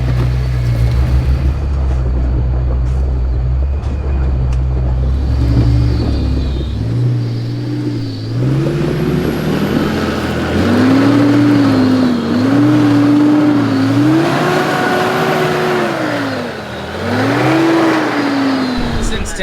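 A 4WD ute climbs an off-camber rut on a rough Blue Mountains bush track, its engine rumbling close and loud, revving up and easing off in repeated surges while people talk over it.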